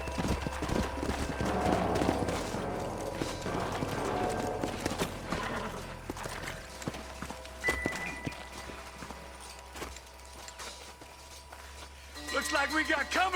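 Horse hooves clop across the ground in the Red Dead Redemption video game, rhythmic and moderately close before slowing, with game dialogue, ambient sounds and a few sharp cracks around them.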